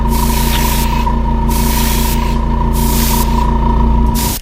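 An airbrush sprays a light haze of gray paint onto a fishing lure, giving a steady, loud, continuous hiss with a constant mechanical hum underneath, broken by brief pauses in the spray.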